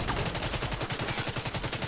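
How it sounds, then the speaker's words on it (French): Sniper turrets firing in the video game The Division 2, heard as a rapid, steady run of sharp shots at even loudness throughout. "C'est les tourelles sniper là-haut là."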